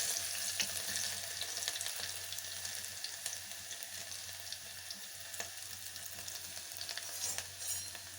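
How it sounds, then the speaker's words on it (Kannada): Garlic frying in a pan gives a soft continuous sizzle with faint scraping and watery crackle, steady and fairly quiet throughout, with no voices. "ಬೆಳ್ಳುಳ್ಳಿ ಹಾಕ್ಕೊಳ್ತಾ ಇದ್ದೀನಿ."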